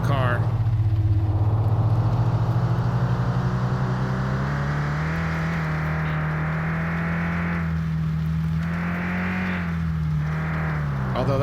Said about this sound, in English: It just won't stop spinning the wheels.